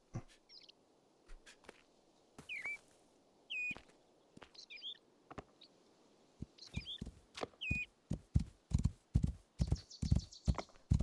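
Horse hooves clopping in the video game Rising World, sparse steps at first that quicken into a steady rhythm, with birds chirping intermittently in the background.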